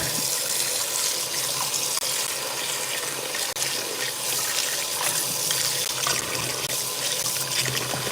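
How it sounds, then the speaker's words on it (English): Tap water runs steadily into a kitchen sink during dishwashing, a continuous close splashing hiss with occasional small clinks of dishes, no voices. "especially when you do the dishes so much"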